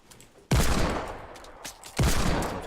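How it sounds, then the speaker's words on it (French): Gunfire rings out during a Fortnite Battle Royale match, two loud bursts of shots roughly a second and a half apart, each decaying into echo. "Ça me tire dessus."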